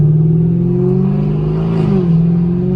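A 500hp Camaro SS V8 pulling hard in first gear, a loud close droning engine note holding steady then dipping slightly as revs shift, continuous with no talking.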